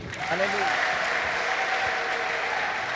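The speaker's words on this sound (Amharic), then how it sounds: "ስለዚህ ጌታ አጨብጭቡ" A church congregation claps together in loud, sustained applause that fills the room, with a voice briefly audible at the start.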